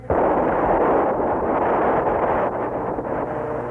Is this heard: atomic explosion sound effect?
yes